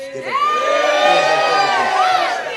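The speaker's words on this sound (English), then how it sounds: "Yeah, you better cheer." A live pub audience at a poetry performance cheers and whoops loudly, a dense crowd roar with rising shouted voices that stays full and close for the whole moment.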